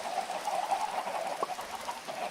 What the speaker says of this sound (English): Why can't I hear the chicken? Oh, there they go.